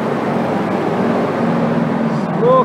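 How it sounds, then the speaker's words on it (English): A noisy truck rolls past outside, a loud, steady broadband roar that fills the whole stretch and swells slightly toward the end. "that is a noisy truck passing by"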